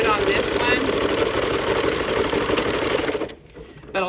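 A sewing machine stitches a fabric microwave potato bag at a fast, even rhythm, running loud and steady for about three seconds before it suddenly stops.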